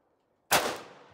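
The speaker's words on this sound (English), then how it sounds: "All right, ceremonial first shot." A single rifle shot, the ceremonial first shot at a Black Rifle Friday 2020 range event, cracks sharply out of silence and then rolls off in a fading echo.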